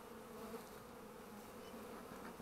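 Bees hum around a Warré hive in a steady, close, continuous buzz, unbroken and fairly faint.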